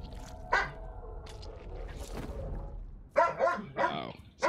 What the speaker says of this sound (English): my dog's trying to play with my other dog now